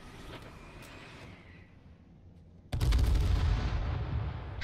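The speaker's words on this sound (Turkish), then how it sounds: "Bomba geliyor lan." Bombing blasts in the survival shooter H1Z1 erupt abruptly at once and stay loud, a dense rumbling roar of explosions after quieter ambient game noise.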